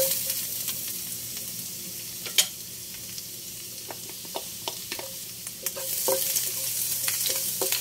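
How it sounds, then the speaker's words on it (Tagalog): Garlic and vegetables sautéing in a pan, a steady sizzle with occasional clinks and scrapes of stirring, the frying growing louder toward the end. "magigisa ako ng gulay. Meron tayong bawang."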